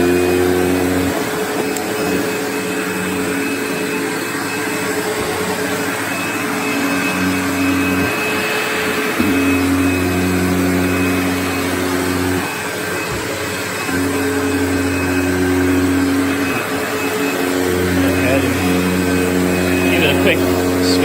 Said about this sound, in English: Start with my Insight 100 commercial grade.